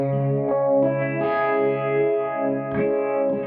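Electric guitar run through a Nux Monterey Vibe pedal on its vibe setting, sustained chords with a thick, heavy swirling modulation that pulses steadily, loud and close with no talking.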